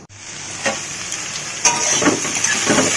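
Bitter gourd and potato pieces frying in a pan, a close, continuous oily sizzle with a few louder spatters and stirring scrapes over three seconds.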